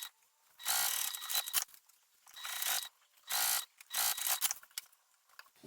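A sewing machine top stitching a fabric pouch, running in four short whirring bursts of about half a second to a second each, separated by quiet pauses, close and clear with no speech.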